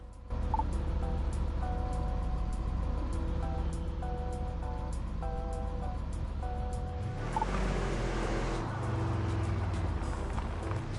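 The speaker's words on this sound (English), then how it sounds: "Start by accelerating, then stop by braking in the marked zone." UTV engine in the Overpass 2 video game, a steady loud motor drone with tonal whine bands that rise and shift as it accelerates, then a change around the braking point, no speech.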